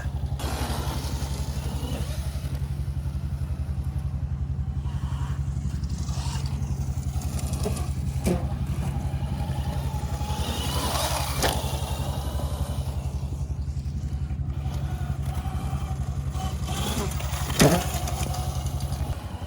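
Mototec 60V Pro 2000W electric bikes and a pit bike ride laps in a figure-eight outdoors, giving a continuous steady engine drone with faint clatter and occasional brief knocks throughout.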